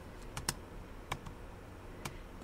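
A computer keyboard gets several separate key presses while a 3D vehicle rig is adjusted in Maya, sharp and quiet clicks spaced irregularly against a faint hiss, with no voices.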